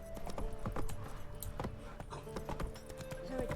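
Roach, Geralt's horse in The Witcher 3, gallops with rapid, rhythmic hoof clip-clops, close and clear, with faint game ambience underneath.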